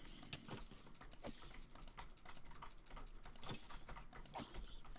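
Rapid mouse clicking while playing Minecraft comes as a dense, fast run of sharp, close clicks with no talking.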